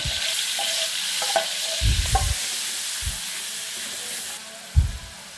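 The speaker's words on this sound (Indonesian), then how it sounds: "tumis bumbunya" Yellow spice paste is stir-fried in a pan for a long bean dish, giving a steady sizzle with a few scraping stirs of the spatula against the pan.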